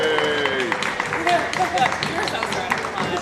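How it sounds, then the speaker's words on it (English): An audience claps and cheers, a dense patter of hands with excited voices mixed in throughout. "We could give them a round of applause."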